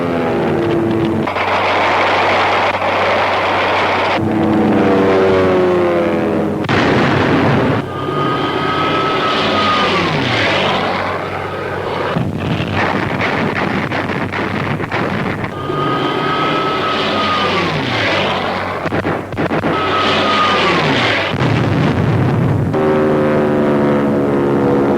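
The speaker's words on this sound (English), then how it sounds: "There's a dogfight as Nazi dive bombers launch an attack to dislodge the Allies from hard-won African airfields" German dive bombers attack during a World War II dogfight over Allied airfields in North Africa, a loud, continuous roar of aircraft engines with repeated rising and falling whines of planes diving past.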